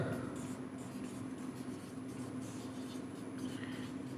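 Chalk or pen scratches across a board or paper during a physics lecture on parallel plate capacitors, soft intermittent strokes over a low steady room hum, quiet and close, with no talking.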